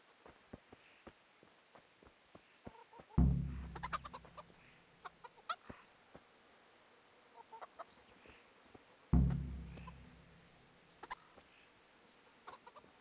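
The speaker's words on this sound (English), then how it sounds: "Time to feed the chickens" Chickens cluck and scratch around while being fed in the medieval game Kingdom Come: Deliverance, soft scattered clucks and footsteps over a quiet backdrop, with two heavy thuds partway through.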